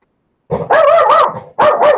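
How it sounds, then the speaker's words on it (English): A dog barks nearby, first a brief yip and then two loud, close barks in quick succession, with no other sound around them. "the dog's off again"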